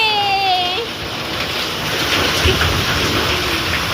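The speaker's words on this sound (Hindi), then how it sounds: "देखो जी बारिश बारिश" Heavy rain during a storm with strong wind pours down in a steady, loud hiss that fills the whole clip, with a brief tonal sound fading at the start.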